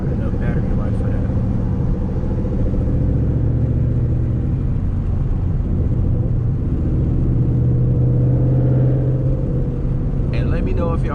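A loud Ford Mustang GT S197 engine drones steadily while driving, a constant low rumble with shifting pitch heard from inside the car, continuous throughout.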